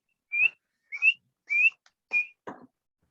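A person whistles an imitation of a spring peeper frog call: five short rising peeps spaced about half a second apart, clear and close, the last one breathier.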